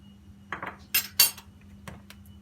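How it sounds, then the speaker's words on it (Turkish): Whisk clattering against a bowl while beating cake batter for a homemade layered cake, a few quick rhythmic bursts of clinking metal strokes, close and moderately loud, then tapering off. "Çırpmaya devam ediyoruz."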